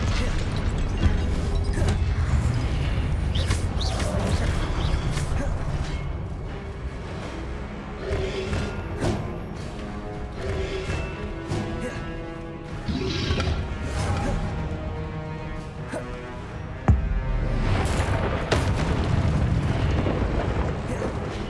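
Incendio fire spell effects from the video game Hogwarts Legacy: a loud, continuous roar of blazing flames with repeated crashing bursts and rumbling impacts, dense and close throughout.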